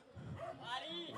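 A dog yips and whimpers briefly at a house visit in Navotas, faint and mixed with speech.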